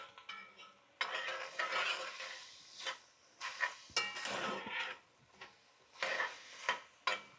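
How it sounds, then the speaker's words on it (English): Onions for chicken and sausage gumbo sauté in a pot, with intermittent bursts of a spoon scraping and stirring against metal, separated by quieter gaps where only a faint sizzle remains. "So we're going to saute these down. Just need to go until the onions are translucent."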